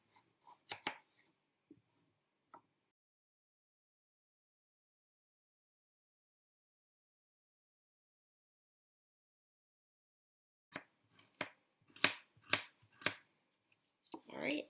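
A knife cuts carrots into quarter-inch pieces on a board, with a few quiet chops, a long silence, then a quicker burst of crisp cuts close by.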